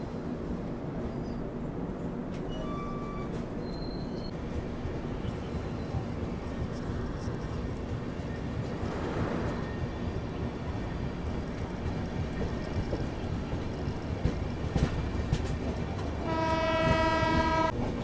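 A New Delhi–Sealdah Rajdhani Express pulling out of a station, with steady rumbling rail noise throughout, brief horn tones early on, and a loud multi-tone horn blast near the end, heard from on board.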